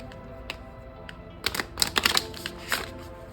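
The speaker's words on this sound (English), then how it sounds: "we're just shuffling the deck here" Tarot cards are riffled and shuffled in quick crisp bursts, a soft flutter of stiff paper repeating after a quiet start.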